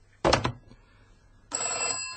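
An old-fashioned telephone bell rings in a 1948 radio drama, one short double burst followed by a pause and then a second, longer ring starting, close and clear with no talk.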